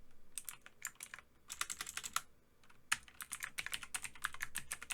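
Close, crisp computer keyboard typing in quick irregular bursts of keystrokes with short pauses between, heard alone without any talking.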